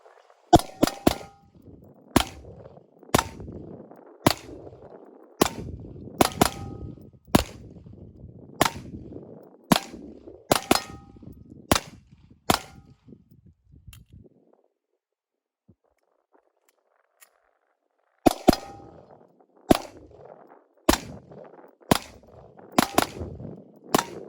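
CZ 75 pistol fired at an outdoor range, a series of sharp, loud single gunshots at an uneven pace with a few quick doubles, a silent pause in the middle, then another string of shots.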